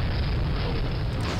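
A tank blowing up in the shooter game Soldier of Fortune, a sustained loud roaring explosion with rumbling low boom that fills the whole moment without pause, no voices over it.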